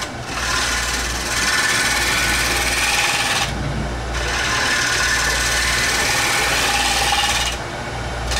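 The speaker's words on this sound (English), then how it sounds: "I'm just cutting all the band or the chainsaw marks off of it." A wood lathe turns a platter blank while a tool cuts away band saw and chainsaw marks, a loud continuous scraping whir in two long passes with a brief pause between them.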